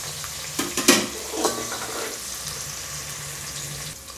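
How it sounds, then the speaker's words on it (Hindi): Sliced onion fries in a pan with a soft, steady sizzle, a few stirring clinks and scrapes early on, then settling into an even hiss. "अब इसको थोड़ा हम भून लेंगे पहले।"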